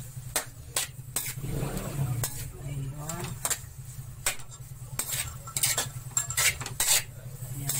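Leftover lechon being reheated in a pan: repeated sharp scrapes and clinks of a utensil stirring against metal over a low sizzle, with brief voices in between.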